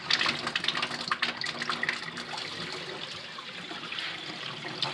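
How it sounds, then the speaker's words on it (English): Water pouring from a newly installed laundry tub faucet in a basement, a steady splashing stream into the tub, close and continuous. "Turn the water on."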